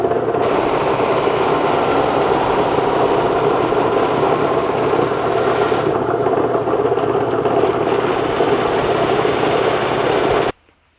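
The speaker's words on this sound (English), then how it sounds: "I'll use that on a soft cotton flannel buffing wheel" A soft cotton flannel buffing wheel spins against a tung oil guitar finish loaded with Menzerna P204 compound, giving a steady, loud whirring drone that runs unbroken for about ten seconds before cutting off.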